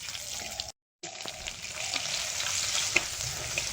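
Bay leaves and five-spice seeds frying in oil in a clay pot, a steady close sizzle that swells slightly with small pops and stirring, briefly cut by a gap, with no talk.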